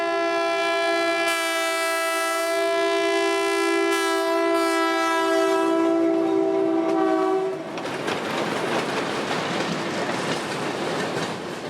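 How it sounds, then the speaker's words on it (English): A work train's horn blasts in a long, loud, sustained tone, then cuts off as the passing train rolls by with rumbling, clattering wheels. "The spot always reckons a horn blast from the passing engineer"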